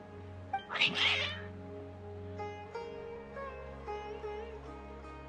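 Several cats meow in Genshin Impact, one loud, close cry rising sharply near the start, then softer drawn-out meows over a steady background music drone.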